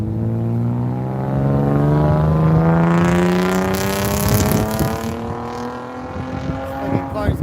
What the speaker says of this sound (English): fucking cars going nowhere, making all that fucking noise